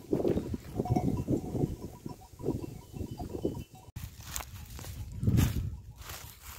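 A flock of sheep with a ram moves down a hillside, with irregular hoof patter and shuffling footsteps up close plus scattered faint bleats.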